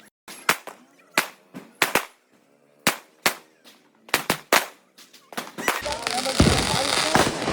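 Diwali firecrackers in a village crowd pop in a rapid irregular string of sharp cracks, some set off by hand, before giving way to a sustained loud crackling roar, with voices talking over them.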